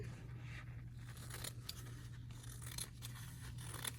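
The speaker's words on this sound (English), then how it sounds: "So I'm going to unfold it, okay, and cut it in half again." Scissors snipping through a sheet of paper to cut it in half at a craft table, a series of close, crisp rasping cuts in quick succession over a low steady hum.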